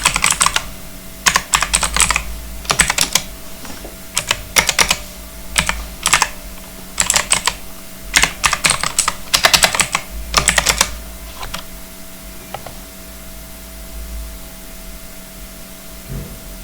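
Someone types on a computer keyboard while writing CSS code, in bursts of rapid, close key clicks with short pauses between, over a low steady background hum.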